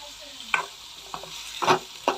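Finely chopped onions fry in a pan, a low continuous sizzle broken by several brief scraping stirs of a spatula, close but fairly quiet, with no talking.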